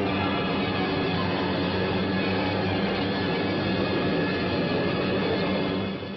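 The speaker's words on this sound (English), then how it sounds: "Jap bombers bored in." Wartime bomber aircraft fly in, their engines a dense, steady, loud drone that hums on unbroken and dips only slightly at the very end, with no speech over it.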